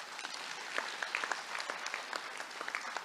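A crowd of delegates at a political party's elective conference claps in steady, moderate applause, a dense wash of hand claps with scattered louder individual claps and no speech over it.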